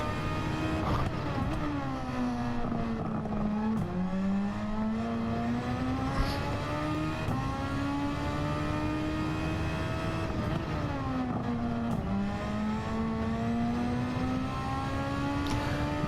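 Toyota Cup race cars lapping the Catalunya circuit: engines drone steadily at moderate distance, pitch rising and dipping as cars accelerate, shift and pass one after another. No talk is heard.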